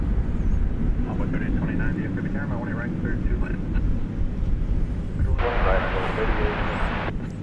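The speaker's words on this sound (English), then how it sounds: "American 2652 from Cancun is what you just saw there, an Airbus" American Airlines Airbus A321 arriving from Cancun at DFW Airport, a steady distant jet rumble with a brighter surge of engine roar toward the end, under a commentator's continuous talk.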